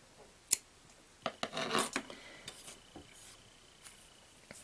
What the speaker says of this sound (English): We can cut up that starting yarn tail a bit shorter now.